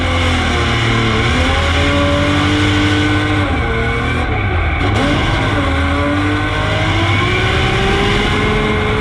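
A homemade 1000 HP V12 race car runs at speed during land speed trials at El Mirage, California, its engine a loud, sustained roar with shifting pitch and a brief dip midway, steady and close throughout.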